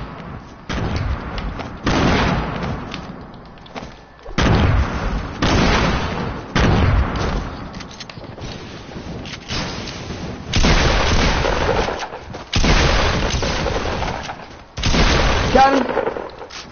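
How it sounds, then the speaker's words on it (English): Grenade blasts in a multiplayer shooter video game, a run of heavy booming explosions with rumbling tails, about eight loud bursts spaced a second or two apart, with brief quieter gaps between them. "I got 6 grenades, I'm gonna throw them out."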